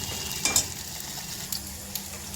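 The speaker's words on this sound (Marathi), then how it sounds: "तर बघा आपला मसाला पण मस्तपैकी परतून झालेला आहे" Masala spices sauté in a hot pan, a steady close sizzle and fry with a few brief scraping stirs of the spoon on top.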